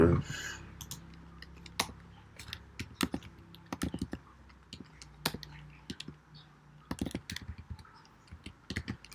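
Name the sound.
typing on a computer keyboard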